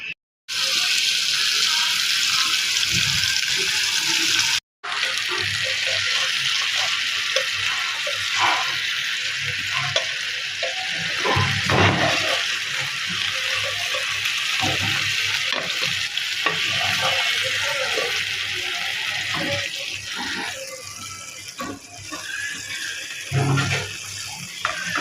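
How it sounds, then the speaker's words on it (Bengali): Chicken pieces sizzle in hot oil seasoned with turmeric and salt, a steady loud frying hiss running throughout with occasional stirring and turning knocks, no talk over it. "এভাবে উল্টিয়ে আপনারা এটাকে ভেজে নেবেন।"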